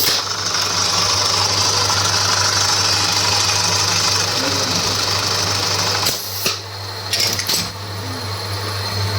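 A buttonhole (kaj) sewing machine runs with a loud, steady mechanical hum and drone nearby, broken by a couple of brief knocks and rattles toward the end.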